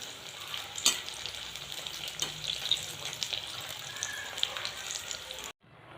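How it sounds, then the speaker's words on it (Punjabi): Potato pakoras fry in oil with a continuous bubbling sizzle and crackle, punctuated by a few sharper pops and stirring scrapes, before cutting off abruptly near the end. "ਦੂਸਰਾ ਪੂਰ ਵੀ ਜਿਹੜਾ ਪਕੌੜਿਆਂ ਦਾ ਉਹ ਫਰਾਈ ਹੋ ਚੁੱਕਿਆ ਹੈਗਾ"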